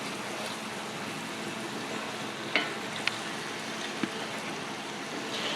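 Spicy orange beef stir-fry sizzles steadily in a pan as the meat juices thicken, a soft, even hiss with a few brief scraping clicks from a utensil against the pan.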